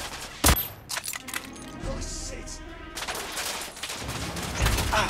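Rapid bursts of gunfire ring out in The Order: 1886 on PS4, loud sharp shots layered over a dense, rumbling battle din.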